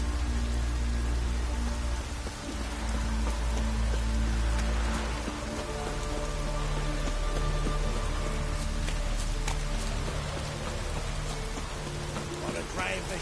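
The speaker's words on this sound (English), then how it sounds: "Looks like rain." Steady rain in the video game The Witcher 3 pours down on surfaces, a dense continuous hiss with a low rumble underneath and occasional sharper drips.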